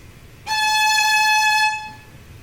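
A single sustained violin note played alone, lasting about a second and a half with a steady, evenly pulsing vibrato.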